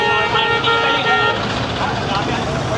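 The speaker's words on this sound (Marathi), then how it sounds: "अजून पण किती ट्रॅफिक आणि गर्दी आहे बघा" Busy road traffic in Varanasi at night, with loud car horns tooting repeatedly in the foreground over a continuous hum of engines, and people talking throughout.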